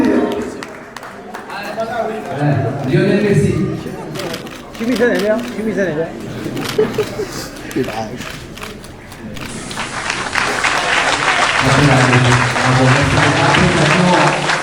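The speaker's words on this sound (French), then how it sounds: "Merci beaucoup pour l'applaudissement s'il vous plaît." Audience applause fills a hall at an arts and culture gala in Marrakech, a dense wash of many hands clapping that swells near the end, heard under a presenter speaking into a microphone.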